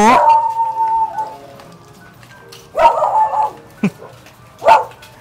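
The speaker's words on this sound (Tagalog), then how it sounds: "baka may aso dyan" A dog barks in short, loud, close bursts with whimpering, yelping tones, spaced apart with pauses between.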